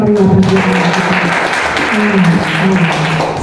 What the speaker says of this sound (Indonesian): Beri sorak-sorai yang meriah bagi Allah.